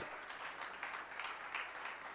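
A church congregation applauds during a sermon, a brief, faint burst of scattered clapping heard from some distance.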